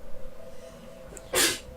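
A single sharp sneeze bursts out near the end, after a quiet moment of low background hum.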